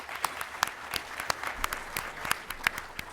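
Audience applause at a games journalism panel at PAX East 2016, a steady patter of many hands clapping with sharper individual claps standing out, moderately loud and continuous throughout.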